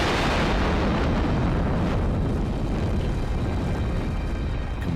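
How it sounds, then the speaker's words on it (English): Rocket engine hit by combustion instability blowing apart: a sustained, loud, broadband roar and rumbling blast that fills the whole clip, slowly easing toward the end, with no voices. "Combustion instability."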